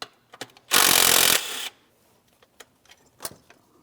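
A 10 mm bracket bolt is taken out on a 2015–2025 Ford Transit 250 with a 3.7L V6, heard as one loud, close burst of a power tool whirring for under a second, then light metallic clicks and taps.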